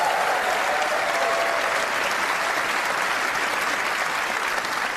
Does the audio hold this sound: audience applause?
yes